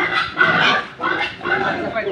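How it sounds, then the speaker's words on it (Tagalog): Pigs on a farm grunting and squealing in close, loud bursts with short pauses between them, while a person talks over the animals. "So ito ang aming mga baboy karga."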